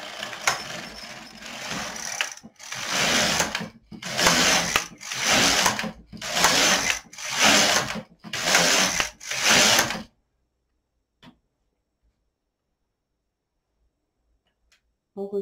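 An LK 150 knitting machine carriage knitting rows of waste yarn, about six loud close rasping whooshes in a steady back-and-forth rhythm, each about a second long with short gaps, then near silence.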